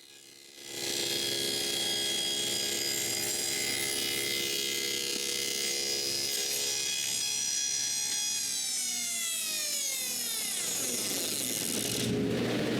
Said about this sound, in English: using a piece of plywood at the back to keep it straight, I cut a deep groove.